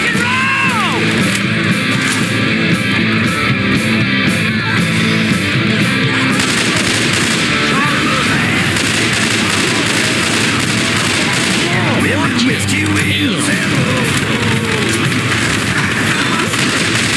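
Continuous gunfire in the video game Left 4 Dead 2, dense rapid shots and booms layered with yells and game chaos, loud and nearly unbroken, while a player talks over it.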